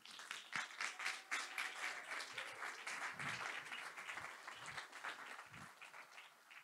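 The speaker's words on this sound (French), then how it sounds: "Et je vous propose de les applaudir." An audience at an agile-teams conference applauds the event organisers, a steady patter of many hands clapping, moderately distant and fading slightly toward the end.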